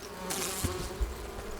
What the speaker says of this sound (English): Where those bees came from.